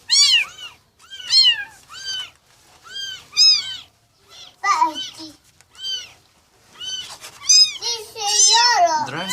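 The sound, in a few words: newborn kitten meowing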